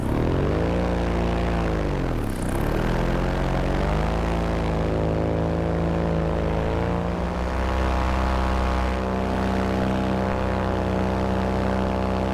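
A paramotor engine drones loudly and steadily in flight, a close, rich propeller hum that dips briefly in pitch and then holds even, with no talk.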